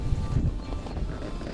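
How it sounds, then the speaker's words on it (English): Gusty wind at a lakeside buffets the microphone with a low, rumbling roar, steady throughout with no voices. "So it's very windy at the moment"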